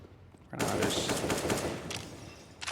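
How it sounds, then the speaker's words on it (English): Rapid automatic gunfire from Counter-Strike: Global Offensive at a professional tournament match, a loud dense burst of shots that runs for about two seconds before tapering into a few scattered cracks. "wildly firing shots off is Kenny"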